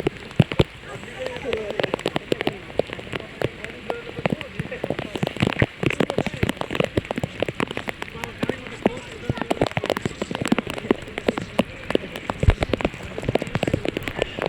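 Steady rain patters on a hard surface at Bortalav lake, with dense drips throughout and occasional voices underneath.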